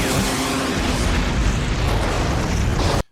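An explosion in the 1996 action film Barb Wire: a dense, loud roaring blast rumbles steadily for about three seconds before ending in a sudden cut.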